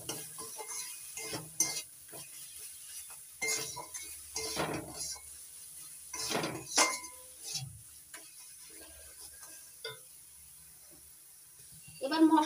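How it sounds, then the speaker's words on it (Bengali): Pieces of shankar fish stir-fry with spices and salt in a pan, with repeated scraping and clinking of a spatula over a light sizzle in uneven bursts, quiet in between and louder at the end. "সবকিছু একসঙ্গে ভালো করে কষিয়ে নেব।"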